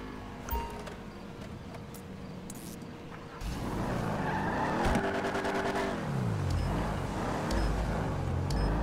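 Mid-range car driven in GTA 5 on PC: a steady engine drone starts partway in and rises and falls as it revs and shifts, loud and continuous, with a brief screech of tires and no talk.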